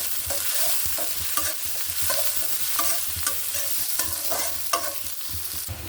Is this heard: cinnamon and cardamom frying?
yes